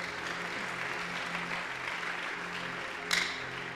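A church congregation at a prayer gathering claps steadily in praise, a soft continuous patter of many hands with a brief sharper burst near the end.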